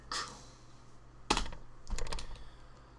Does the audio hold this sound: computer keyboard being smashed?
yes